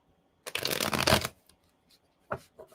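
Tarot cards are shuffled by hand in a quiet room, with a dense riffling burst lasting almost a second followed by a few shorter shuffles and card taps.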